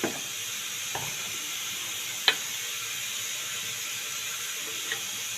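A spoon scraping and stirring a dessert mixture in a bowl, with a few light clinks against the side over a steady hiss of background noise.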